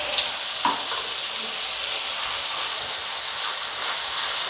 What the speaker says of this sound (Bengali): এগুলো আদা কুচি, এগুলো রসুন কুচি, দিয়ে একটু নাড়তে হবে